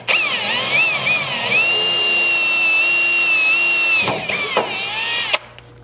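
A power drill with a 1/8-inch bit whines loudly and steadily while boring a pilot hole through a Chevy Colorado truck frame, its pitch wavering under load before it stops and briefly revs again.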